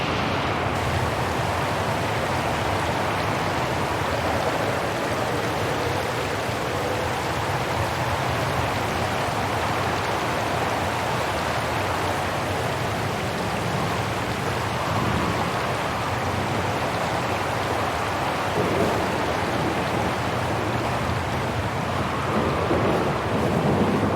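A thunderstorm with heavy rain pours steadily in the video game Syberia: The World Before, a dense, loud wash of rainfall with deep rumbles underneath and no voices.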